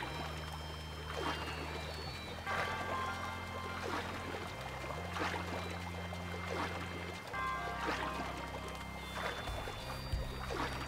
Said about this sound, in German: Und das Wasser ablassen